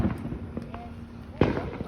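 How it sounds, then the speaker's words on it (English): Fireworks crackle and pop at an outdoor 90s-themed cookout, with scattered small bangs and a sharper burst near the end, set against a busy background of voices and party noise. "look at all the smoke from these fireworks"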